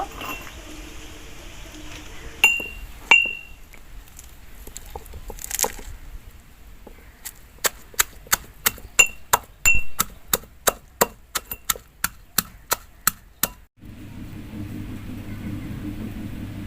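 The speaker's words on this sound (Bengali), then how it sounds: "তো আমি হামানদিস্তায় বাটবো।" Chopped spinach is pounded in a metal mortar and pestle, first a few scattered clanks and then a fast, regular run of about fifteen sharp metallic strikes, followed by a low hum.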